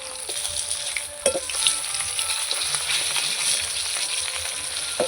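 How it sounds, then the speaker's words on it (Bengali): Catla fish head frying in hot oil in a pan gives a steady, close sizzle with a few sharp crackles and pops, and no voices. "মাথাটা একটু উল্টে দেবো"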